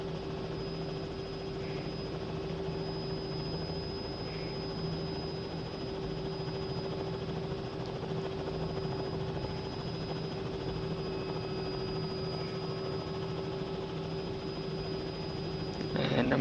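A helicopter taxiing in a flight simulator game (MSFS or X-Plane) produces a steady, unbroken engine and rotor drone with a constant whine, holding even loudness throughout with no talk.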